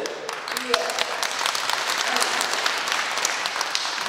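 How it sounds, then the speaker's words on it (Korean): A crowd claps at a Korean book launch event for an Syngman Rhee documentary, a brisk scattered round of applause that holds steady over a few seconds while a voice speaks faintly beneath it. "박수는 왜요?"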